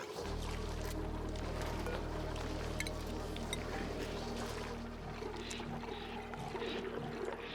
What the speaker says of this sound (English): Seems like the water draining is actually going really well